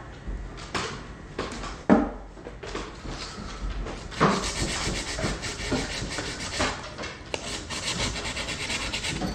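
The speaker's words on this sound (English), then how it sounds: "So I'm just going over the ones that have got little notches in with the sandpaper" Sandpaper worked over small notches in a guitar's frets, giving a steady, close, raspy rubbing that runs almost continuously, with a couple of sharper knocks early on.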